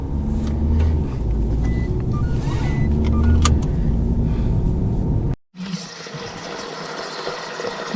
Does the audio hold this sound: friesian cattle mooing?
no